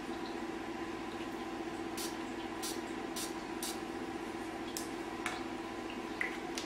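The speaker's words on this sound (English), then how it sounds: "I'm now going to give myself a dose, which is 4 sprays intraorally of the 360 Mist" An oral mist spray pumped into the mouth: a quick series of short, soft hissing puffs, about four in close succession and a couple more after, over a faint steady room hum.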